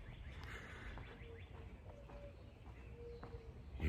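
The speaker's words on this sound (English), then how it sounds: "You hear the owl?" An owl hoots softly in the distance before dawn at about 4:30 in the morning, a few low, spaced calls over quiet outdoor ambience.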